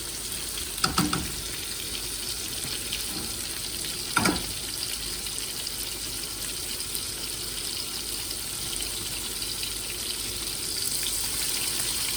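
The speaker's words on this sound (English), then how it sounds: "We'll work that butter around the pan." Butter sizzles steadily in a hot pan with ribeye steaks for a Cajun ribeye, a constant broadband crackle with two brief louder clatters near the start and no talking.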